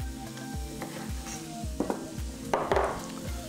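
Bacon crisping in a butter-slicked pan with onions and garlic over medium heat, a steady close sizzle with a few sharper spatters and crackles and no talking.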